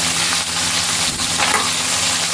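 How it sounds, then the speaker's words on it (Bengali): Pieces of ridge gourd fry in a hot pan with a steady, loud, close sizzle and light crackle running the whole time, with no one speaking. "ঝিঙেগুলো ছেড়ে দিলাম, ভেজে নেব এপিট ওপিট করে।"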